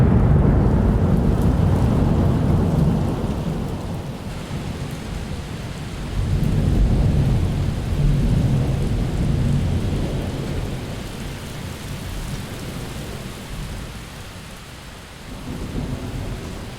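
Heavy rain pours steadily while deep thunder rumbles roll through in long waves, swelling and fading over the downpour, heard from indoors.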